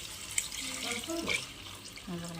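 Hot water is poured steadily into a pot of Bhogi vegetable curry for a couple of seconds, with faint voice-like tones underneath.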